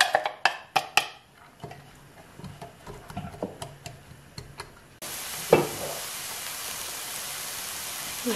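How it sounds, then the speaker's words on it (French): Onion and a garlic clove frying in olive oil in a pan: several sharp taps and clatter at first, then a steady, moderately loud sizzle that swells and holds, with no talk. "je commence donc par mettre de l'huile d'olive dans ma poêle. Je vais ensuite y ajouter donc l'oignon et la gousse d'ail"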